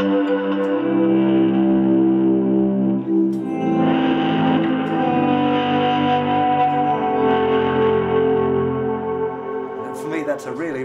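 Electric guitar through a distortion pedal with a mild overdriven crunch, sustained chords ringing out with echo and chorus-like shimmer, loud and close.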